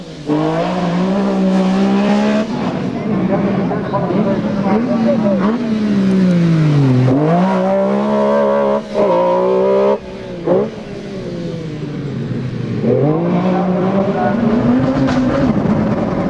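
Rally car driving a stage at Lurgan Park in 2002, engine loud and close, revving up and down through the gears with a stumble where a shift is missed, a voice talking over it.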